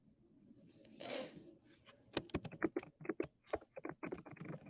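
Rapid, uneven clatter of keys on a computer keyboard, with a short scraping rub just before the typing begins, close and fairly quiet with no talking.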